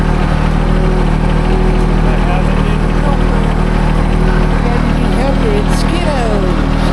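A tractor engine running in an orchard field, a loud steady mechanical drone throughout.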